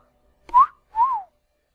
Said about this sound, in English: Sorry, that whistling was probably very terrible in the microphone.